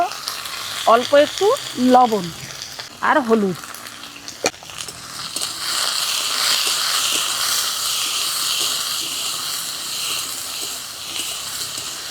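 Potatoes and eggplant frying in mustard oil in a wok: someone speaks briefly at first, then a clear utensil clack as the eggplant goes in, followed by a loud, continuous sizzle that fills the rest.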